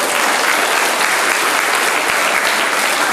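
A church audience at a synod's grand finale claps loudly and steadily for two pastors, a dense continuous wash of hand claps at close range with no talking over it.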